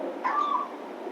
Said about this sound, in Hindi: देखो बिल्ली घूम रही है आराम से, प्रांगण में आ गई दर्शन करने के लिए